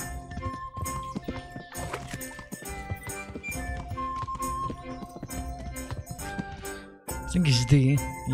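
Horse hooves clip-clopping in Kingdom Come: Deliverance, a brisk irregular rhythm over game music, with a whinny rising near the end; someone talks briefly.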